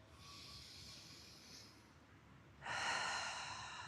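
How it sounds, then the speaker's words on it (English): Deep breathing during a yoga session, a long soft inhale followed by a louder, airy exhale, close and alone. "One more deep breath through"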